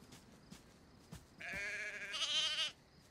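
A single sheep bleats in the video game DayZ, a wavering nasal cry lasting about a second, fairly faint against quiet background with a few soft knocks before it.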